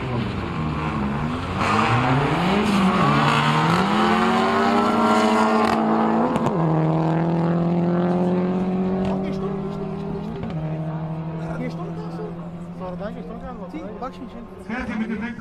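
An Opel Vectra C20 LED and a stock Cupra 300 launch side by side in a quarter-mile drag race, engines revving hard and climbing through gear changes, loud and close, with an announcer talking over the noise.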